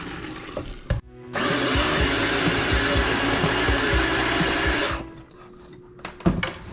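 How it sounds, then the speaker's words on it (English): A blender or electric mixer runs steadily for about four seconds, beating cognac and milk into an egg mixture for aged eggnog, loud and close, with brief kitchen clatter before and after. "now we're going to mix this with our egg mixture"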